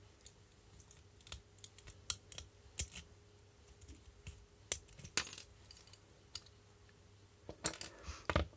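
Tools cut and snap at the plastic case of a small 22mm digital panel voltmeter, sharp scattered clicks and cracks at irregular intervals, close and fairly quiet with a faint hum beneath.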